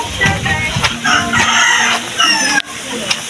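A rooster crows loudly and close by in repeated drawn-out calls, with clucking chickens mixed in and brief voices talking alongside.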